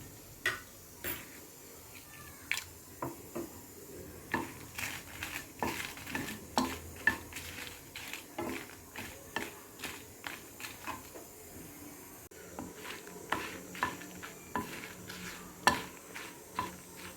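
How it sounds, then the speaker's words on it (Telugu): Dry red chillies are stirred as they fry in a pan, with a steady run of close metallic scrapes and clicks from the spoon over a faint sizzle. "దానికి సరిపడా మిరపకాయలు వేయించుకోవాలండి"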